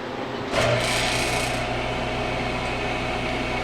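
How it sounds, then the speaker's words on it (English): A steady mechanical hum kicks in after a brief click and keeps running evenly, a pump-like drone close by: a freeze dryer's vacuum pump running, with the chamber at -65. "The vacuum pump's going to start going again, and it's going to warm up the trays."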